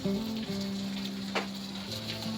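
Russula mushrooms sizzle and crackle in a frying pan in a home kitchen, a soft steady hiss with small pops, accompanied by a low humming tone like a kitchen extractor fan.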